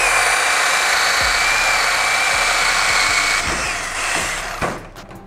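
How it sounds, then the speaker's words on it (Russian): A Ryobi RAD18C cordless angle drill runs with a drill bit, a loud steady motor whine held for several seconds, then wavering and winding down with a few knocks as the bit bites. "Ну и, собственно, попробуем засверлиться."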